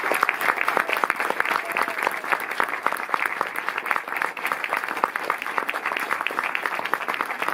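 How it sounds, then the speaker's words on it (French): Steady, dense applause from a large audience honouring a film director and screenwriter at a French masterclass, many hands clapping continuously at an even level throughout with no voices over it. "Je vais vous demander s'il vous plaît de faire un tonnerre d'applaudissements pour le réalisateur et le scénariste du film, Régis Varnier."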